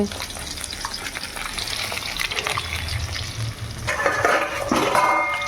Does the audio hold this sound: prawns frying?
yes